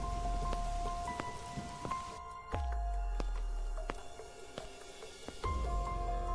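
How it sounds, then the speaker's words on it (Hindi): Light rain patters on a surface with scattered individual drops and small drips, fairly quiet, alongside a faint low rumble that comes and goes. "फिर थोड़ी थोड़ी बारिश भी शुरू हो गई"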